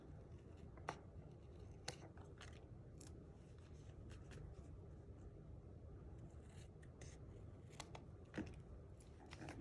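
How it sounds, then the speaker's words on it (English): Paper snips make a few quiet, crisp cuts through paper while trimming a card frond, scattered sharp snips over a soft background hiss. "I'm gonna take my paper snips"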